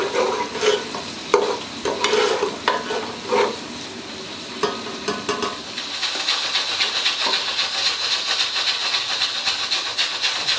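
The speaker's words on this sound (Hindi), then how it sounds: "फ्लेम को मीडियम रख के हमने इसको गोल्डन कर लेना है प्याज को।" Finely chopped onions frying in oil in a pot over a medium flame for beef paya, a steady close sizzle and hiss with occasional stirring clatter early on, brightening into a denser crackle midway.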